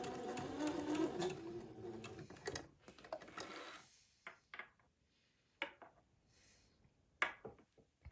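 Sewing machine running a short 1/8 inch seam to tack down a neck facing on a period gown, a burst of stitching at first, then scattered faint clicks and handling sounds in a quiet room.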